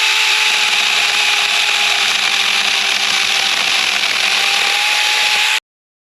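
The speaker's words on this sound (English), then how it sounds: "thank you so much to Saker for giving us this chainsaw to test out" A Saker chainsaw cuts through a tree on a homestead, a loud, steady high-pitched whine held without a break for several seconds before stopping abruptly.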